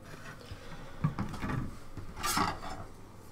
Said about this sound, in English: And then the back plate can just slide over that.